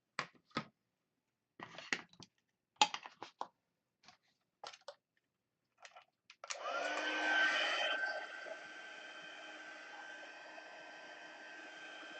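A heat tool blows to heat set a paper craft mosaic, a steady whooshing hiss starting after several scattered taps and handling clicks, loud at first then settling to a quieter continuous drone.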